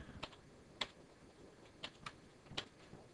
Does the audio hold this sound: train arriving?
no